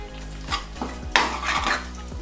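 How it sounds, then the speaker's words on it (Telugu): Spiced masala with ginger garlic paste is fried in a separate pan for stuffed eggplant curry, a short close burst of sizzling with a few clattering spoon scrapes against the metal pan and no speech. "నేను మసాలాని సపరేట్గా మరొక ప్యాన్లో వేసి వేపుకుంటున్నాను"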